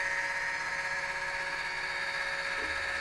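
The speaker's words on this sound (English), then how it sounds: "that's going to open up your fantastic vent" A Fantastic Vent roof fan motor in a Forest River Cardinal 29LE RV whirs steadily as it cranks the vent open, giving a constant buzzing hum close by with no talk.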